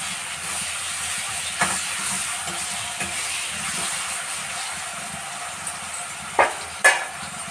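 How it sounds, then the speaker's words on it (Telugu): Onions sizzle and fry steadily in a pan with salt added, a soft continuous hiss with a few sharp scraping clinks of a spoon stirring near the end, no talking. "ఆనియన్స్ అనేవి కూడా సాల్ట్ వేసుకుని ఇలా కలుపుకోవాలి"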